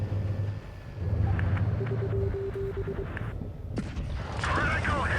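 Tank cannon fire in World of Tanks Blitz during a Vietnam War themed battle on the Lost Temple map, with low rumbling booms and engine drone under steady commentary talk.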